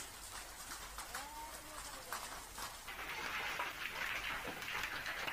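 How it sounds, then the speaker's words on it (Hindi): Large hailstones pelt down in a storm at Malpura in Tonk, Rajasthan, making a dense, faint patter that grows heavier partway through, with muffled voices faintly in the background. "तो बड़े बड़े ओले यहां पर गिरते हुए नजर आ रहे हैं।"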